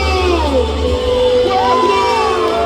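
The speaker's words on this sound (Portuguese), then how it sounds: "Cadê o grito da galera?" Crowd at a bonfire festival in Cachoeira de Minas shouting and cheering in a sustained, loud roar, with a single voice rising above the crowd.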